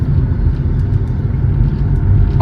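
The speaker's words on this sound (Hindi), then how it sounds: "अभी भी मेरी गाड़ी थर्ड गियर में चल रही है" A car engine runs steadily in third gear while driving, a loud continuous low rumble with road noise and no talking.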